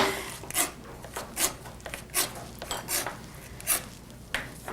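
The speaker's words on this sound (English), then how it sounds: "we're dicing up a lot because again, we're gonna add some of this to the guacamole as well" Knife chopping vegetables on a cutting board for guacamole: sharp, evenly spaced strikes about once every three-quarters of a second, close and moderately loud, with no talking.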